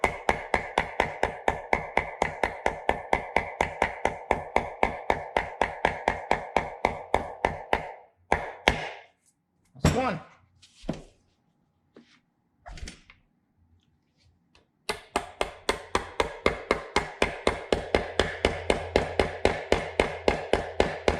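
A hammer taps on the outer race of a bearing during a Baja Warrior build, giving long runs of rapid, evenly spaced metallic strikes, close and crisp, broken by a short pause with a few scattered knocks before the steady tapping resumes.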